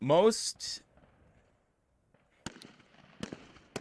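Rifle shots ring out at an army basic training range, several sharp cracks spaced over a few seconds after a burst of speech, fairly distant with quiet gaps between them.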